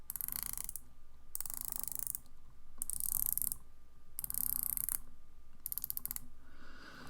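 Rotating bezel on a Pagani watch turned in short bursts, close, quiet rapid ratcheting clicks in about five separate runs with brief silences between.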